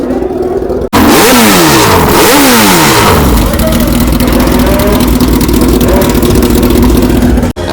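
At a drag racing meet, a drag motorcycle engine blips and revs loudly in rising and falling sweeps, then holds a steady, high, buzzing idle up close.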